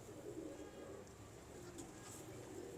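A pigeon at least five or six years old, kept by a fancier, gives soft low coos over a steady murmur of background noise, faint and continuous throughout.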